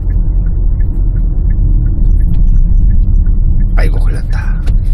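A 2019 Hyundai Santa Fe TM engine makes a steady, loud low rumble as the car turns, and a voice comes in near the end.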